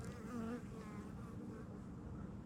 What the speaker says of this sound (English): I hear a bee coming in.